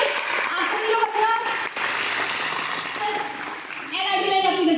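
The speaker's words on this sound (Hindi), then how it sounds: "एक बार जोरदार तालियां आप सभी के लिए।" Seminar audience at a Vestige business program clapping loudly together, continuous applause with voices and speech layered over it, a speaker heard near the close.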